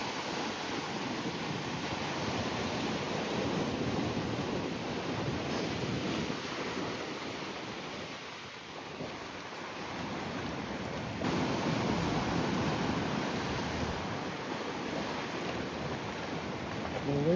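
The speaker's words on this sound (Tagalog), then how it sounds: "I like the sound of the waves." Ocean waves washing onto the beach at Boat Harbour Reserve at low tide, a continuous broad rushing surf with swells rising and falling, mixed with wind buffeting the microphone.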